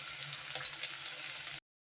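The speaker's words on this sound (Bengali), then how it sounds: "এখন ভাজা করছি তেল দিয়েছি" Pitha fries in oil with a faint, steady sizzling hiss for about a second and a half before the sound cuts to silence.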